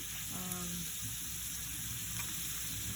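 Onions fry in oil until golden with a soft, steady sizzle that stays faint and continuous, with a brief tonal clink near the start.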